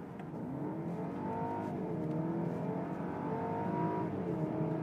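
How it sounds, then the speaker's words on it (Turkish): Engine of a 2016 BMW 730Li sedan while driving, a smooth steady hum heard from inside the car that rises gently in pitch as it accelerates, with road and wind noise beneath and no talking. "Duyuyorsunuz motor sesini. Çok güzel geliyor."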